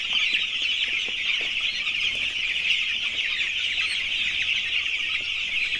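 A dense flock of chickens in a poultry farm shed keeps up a continuous high chorus of peeping and clucking, steady and fairly loud throughout.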